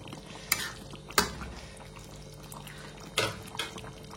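Chicken curry with coriander stirred in a pan, with soft sizzling throughout and a few sharp scraping knocks of the spoon against the pan, close by and with no talking.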